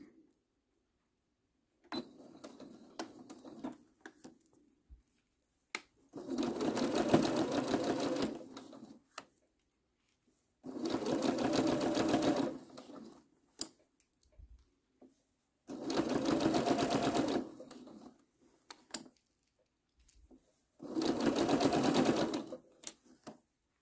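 A sewing machine runs in four sustained bursts of rapid mechanical stitching, separated by quiet pauses with faint handling noises.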